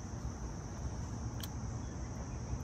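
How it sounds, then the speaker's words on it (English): Crickets chirping steadily on a quiet, clear night outdoors, a faint continuous high trill over a low background hum. "I'm hearing, I think those are crickets."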